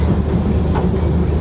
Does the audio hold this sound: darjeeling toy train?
yes